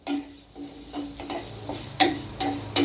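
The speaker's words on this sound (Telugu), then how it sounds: "వీటిని కూడా బాగా దోరగా వేపుకుందాం" Coriander seeds roasting in a pan of oil on the stove, a steady soft sizzle with scraping stirs and a few sharper clinks of a spoon against the pan, close and fairly quiet throughout.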